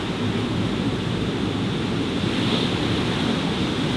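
Waves washing onto a beach, a continuous broad roar of surf close by with wind noise, steady and loud, no voices.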